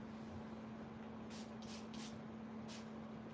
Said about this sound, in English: Let me just spray some water on them though